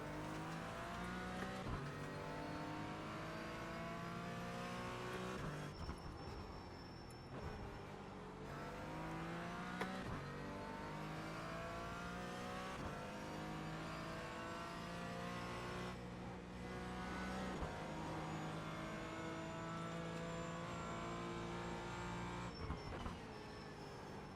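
A Porsche Cayman GT4 race car engine in the iRacing simulator revs up and down through repeated gear changes, rising whines falling at each shift, loud and continuous with no talk.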